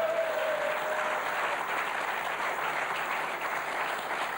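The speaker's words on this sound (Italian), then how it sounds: "voglio un applauso, lo voglio da voi" A studio audience on an Italian football talk show, a World Cup special, bursts into steady, continuous clapping. The applause stays moderately loud and even throughout, with a brief tone at the very start and no speech.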